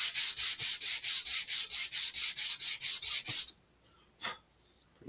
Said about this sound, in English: I'm just going to sand off like this, and the burrs are gone.